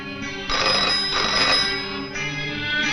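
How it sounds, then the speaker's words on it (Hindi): An old telephone bell in a Hindi film, Aitbaar, rings in two long, insistent bursts with a short gap between them, clear and close in a quiet room with no one speaking. "टेलीफोन की घंटी बजी।"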